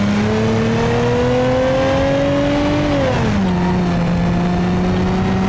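A 3.2 liter V6 engine in a Bruckell car from BeamNG.drive revs steadily upward, holds, then drops to a lower idle-like drone, loud and close with no talk.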